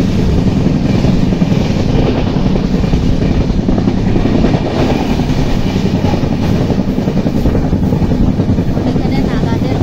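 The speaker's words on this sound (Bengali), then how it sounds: "ট্রেনটা ছেড়ে দিল," Nagaland Express passenger train bound for Dibrugarh, running just after leaving Simulguri station: a steady, loud rolling rumble with faint clattering of the coaches throughout, heard from on board with some voices mixed in.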